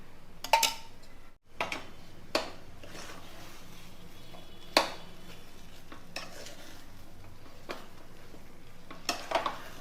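Kozhukattai dough is stirred with ghee in a pan, giving faint scraping strokes and scattered soft clicks of a spoon against the pan over a quiet low background hiss.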